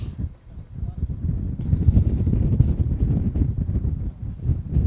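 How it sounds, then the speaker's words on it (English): Strong wind buffets the microphone at an airport tarmac at night ahead of Air Force One landing, a steady loud rumble that swells after the first second and holds, with faint background noise. "really strong wind here tonight"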